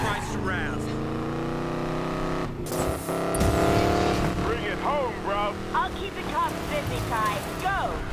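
Racing car driving in Need for Speed Payback, a steady engine drone with shifting pitch running continuously beneath voices talking over it.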